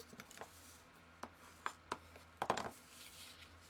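Paper sides of a handmade envelope being folded inward, with soft scattered rustles and a few sharp creasing crackles, quiet and close.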